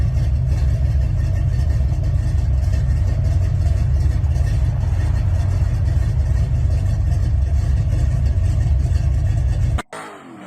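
Classic muscle car engine idles with a deep, steady, loud rumble for about ten seconds, close up and uninterrupted, then cuts off abruptly at the end.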